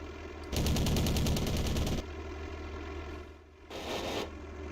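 Aircraft cannons fire in a World War II flight combat video game, with a long loud rapid burst followed by a shorter second burst over a steady engine drone.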